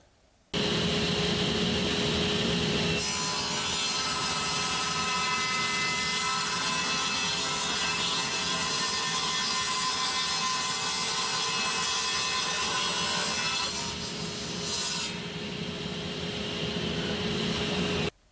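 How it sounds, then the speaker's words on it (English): Table saw ripping a wooden board for a cutting-board mold: a steady, loud broadband whir and cutting rasp running continuously for about seventeen seconds, with brief brighter surges at the start and near the end. "I can use it as a reference to run through the table saw here"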